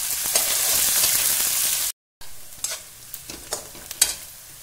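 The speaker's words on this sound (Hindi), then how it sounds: "ऑयल गरम है, ऐड करेंगे जीरा, प्याज, इसको गोल्डन ब्राउन होने तक भूनेंगे।" Cumin and chopped onion frying in hot oil in a kadai, a steady close sizzle with scraping stir strokes, briefly cut off then resuming with sharper spatula clicks.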